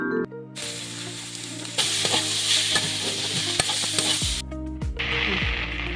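Onion fries in a hot oiled pan, a loud continuous sizzle with crisp stirring scrapes and spatula knocks. The sound comes close and unbroken, with a brief quiet gap at the start.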